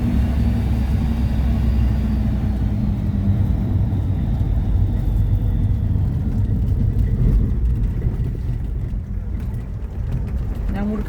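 Steady low engine rumble inside a moving car on a jungle road in Indonesia, constant and loud throughout with road noise, while people talk over it.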